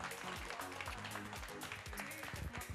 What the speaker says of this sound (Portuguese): Aplausos, né, gente, para Civaldo?